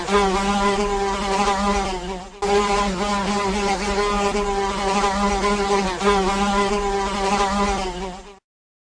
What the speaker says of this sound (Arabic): ذبابة.